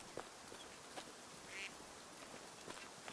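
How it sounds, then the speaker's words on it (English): Ducks quacking somewhere nearby outdoors, a few brief, scattered calls that sound faint and distant over a steady hiss of background noise. "There, some duck is watching someplace."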